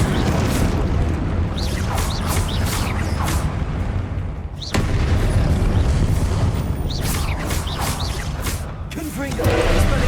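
Blasting spell explosions in the Hogwarts Legacy video game, dense booms and whooshing bursts repeating through continuous loud combat with a brief dip midway, under occasional voices.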